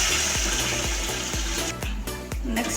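Water poured from a vessel into a large pot holding about 2 kg of rice for chicken dum biryani, a steady rushing splash with a few thuds of the container, close and fairly loud, no talking.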